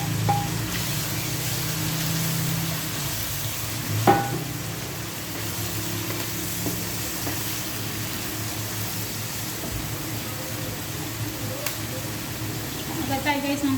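Pork and onion fry in a pan, giving a steady hiss and sizzle with occasional stirring clatter, while a person talks over it.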